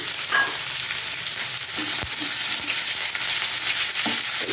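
A small chopped onion frying in a pan gives a steady, loud broadband sizzle, with a few faint scrapes and clicks from stirring and no voices.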